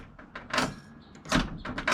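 A Camaro pro touring car's door handle pulled twice while the latch stays shut, giving two muffled clunks and rattles with quieter scraping between, no talking.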